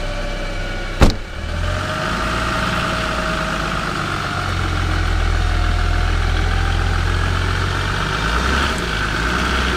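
A car engine hums steadily while driving, low and continuous, with a brief sharp knock near the start and a slight swell in loudness midway; no voices.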